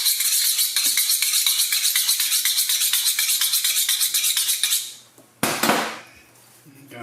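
Kitchen knife honed on a sharpening steel while prepping ribs: a rapid run of bright metallic scraping strokes in a steady rhythm, close and loud for about five seconds, then a single last swipe before quiet.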